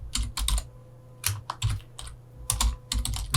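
Code being typed on a computer keyboard for an Android Kotlin app, with crisp, close keystrokes in quick bursts and clusters separated by short pauses, loud and alone without talk.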